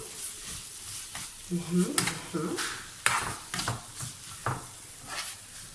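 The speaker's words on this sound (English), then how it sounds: "now we are at the frying stages, people" Rice fries and is stirred in a pan during home cooking. There is a soft sizzle with intermittent scraping strokes and a few sharp clinks of the utensil against the pan, and a voice speaks briefly in between.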